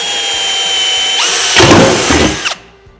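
A power drill with a 6.5 mm bit whirs steadily, then bites into the metal cage of a Polaris Ranger XP 1000 with a louder, rougher grinding burst before cutting off abruptly.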